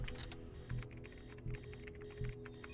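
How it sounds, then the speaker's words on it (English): Keyboard typing in a Mirror's Edge cutscene, a quiet run of rapid key clicks with a few heavier thumps spaced through, tones and hum underneath, no voices. "I love a good moment of dramatic typing."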